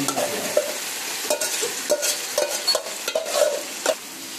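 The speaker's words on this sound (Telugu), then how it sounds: "బాగా కలపండి." Restaurant-style chicken fry being stirred in a pan, a gentle sizzle under repeated spoon taps and metallic scrapes at a loose, steady rhythm, close and clear with no speech.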